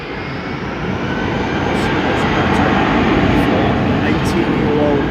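Aircraft engine at London Heathrow Airport, a steady broadband roar sustained throughout at moderate distance, with people talking over it.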